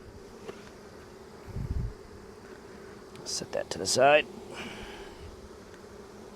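Honey bees buzz in an open hive during winter preparation, a low, steady hum beneath someone speaking briefly, with close handling clatter and bumps as comb is worked.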